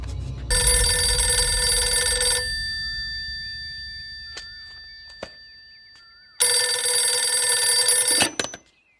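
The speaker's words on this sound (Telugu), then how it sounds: "హెలెన్, నీకే ఫోన్." A telephone bell rings in two loud, sustained bursts separated by a quiet gap with faint clicks, the electronic trill bright and harmonic-rich.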